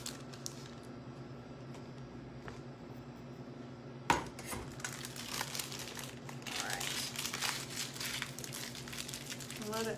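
A plastic piping bag of buttercream is popped open and handled, giving a sharp snap followed by close crinkling and rustling of plastic with light clinks, while a voice talks faintly in the background.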